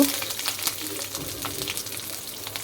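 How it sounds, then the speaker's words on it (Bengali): Chopped onions frying in a little oil in a pan for fried rice, a soft continuous sizzle with faint crackles and stirring scrapes, quiet and close without any talk. "হালকা হালকা একটু ভেজে নিব পেঁয়াজটা"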